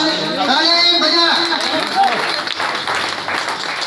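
Children clapping and applauding in praise at a Republic Day celebration at Madina Masjid, a lively burst of hands under adult speech and crowd noise.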